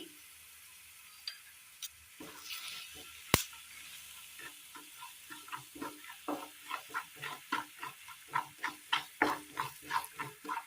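Spice powders (coriander, sambar, chili and turmeric) frying with garlic in a pan, a soft sizzle under rhythmic stirring scrapes that grow quicker, louder and more regular toward the end, with no talking.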